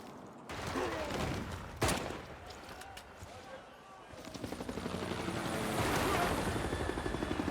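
Helicopter units in the Civilization VI strategy game attack with whirring rotor noise, sharp bursts of gunfire and impacts that build into a dense, steady battle din.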